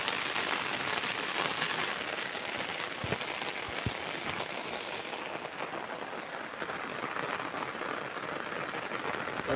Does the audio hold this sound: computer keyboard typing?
no